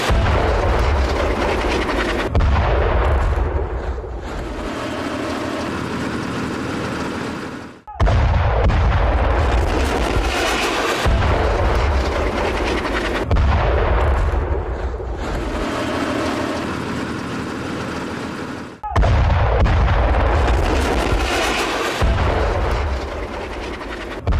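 Bombing in Gaza, with heavy low rumbling blasts and dense roaring noise in long loud bursts, abruptly cut into several segments, no talk.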